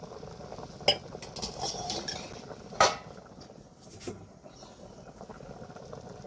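A metal pot lid clinks and scrapes as it is lifted off a boiling goat leg curry, with two sharp clanks among softer rattles and a low bubbling, simmering background.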